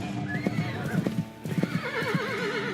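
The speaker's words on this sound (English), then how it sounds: "So they're fucking riding on horses, yo." Horses clip-clopping over ground, several hoofbeats in uneven bursts, with a horse neighing and whinnying in wavering calls; a group of riders on horseback.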